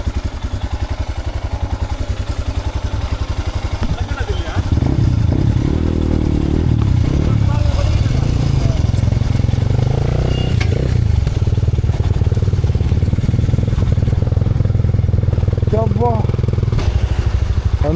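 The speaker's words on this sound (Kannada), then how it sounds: "ಗಾಡಿ ಬಂದ ಬೈಕ್ ಬಂದ ಗಾಡಿ ಬಂದ" A dirt bike engine chugs unevenly at first, then roars into loud, sustained running with rough revving close by, as people speak over the noise.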